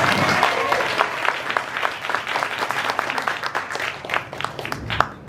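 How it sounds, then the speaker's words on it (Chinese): An audience applauding for a teacher at a gathering in a restaurant, a lively crowd of clapping hands with distinct sharp claps standing out, sustained and gradually thinning toward the end. "我们给王老师一个最亲爱的掌声"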